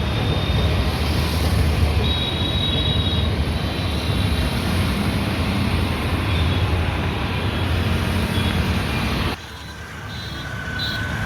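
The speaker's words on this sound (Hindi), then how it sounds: "देखिए मेट्रो आ गई है।" A Lucknow metro train rolls through with a loud, steady rumbling roar that holds for several seconds before cutting off abruptly, leaving quieter ambient noise.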